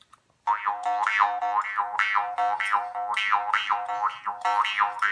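A twangy brass Nepalese murchunga jaw harp plucked with the thumb in a steady rhythm, each pluck giving a wah-like vowel sweep over a constant drone, close and clear with no talking.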